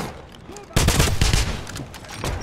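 Heavy suppressing gunfire in the World War II shooter Wolfenstein erupts after a quieter start and holds as a loud, dense volley of rapid shots with booming low end, fading slightly toward the end.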